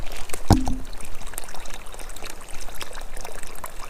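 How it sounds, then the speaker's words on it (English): Clear running water of a mountain spring at Tool Box Springs on the Ramona Trail trickles and pours close by, a continuous splashing flow with one brief sharp knock early on. "That's your clear running water right there."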